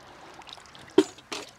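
Water is poured to imitate rain into a rainwater-collecting contraption for a pond. A soft trickle runs under two short, louder splashing bursts close by.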